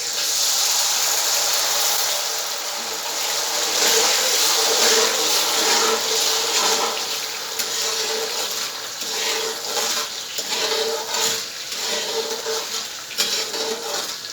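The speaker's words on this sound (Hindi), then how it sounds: "और आध कप इसके अंदर पानी ऐड कर दें।" Water is poured into sugar and ghee to make the syrup for suji halwa, giving a steady, close hissing splash that runs unbroken for the whole stretch.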